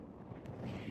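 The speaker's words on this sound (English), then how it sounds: "It's pretty windy" Wind buffets the microphone on an open mountain trail below the summit of Mt Margaret in Denali, a steady low rumbling roar that swells slightly and carries on alone without voices.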